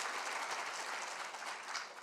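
A church congregation's applause, a full, even wash of many hands clapping continuously at close range, fading slightly near the end without any talking.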